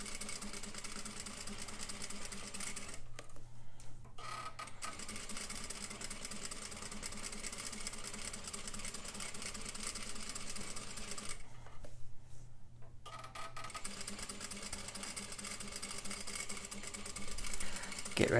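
Sewing machine stitching fabric, a steady close mechanical whir running almost continuously with two short pauses where the needle stops.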